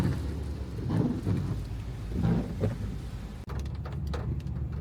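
Steady rain falls with rumbling thunder rolling through on Praslin island, a dense wash of rain hiss with low swells of thunder and a brief sharp knock near the end.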